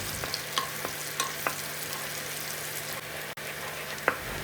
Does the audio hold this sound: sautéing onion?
yes